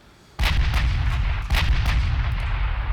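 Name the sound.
battleship guns firing in video game Ultimate Admiral Dreadnoughts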